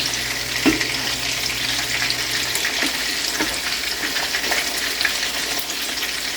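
A homemade burger patty fries in oil in a pot with a loud, constant hiss and crackle, a low hum fading partway through, and an occasional soft knock.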